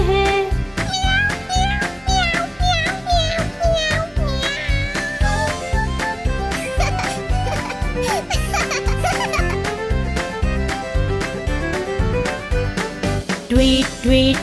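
A voice imitates a cat's meow in a Hindi children's rhyme, the repeated meows sung over bouncy, rhythmic music with a steady beat that carries on throughout.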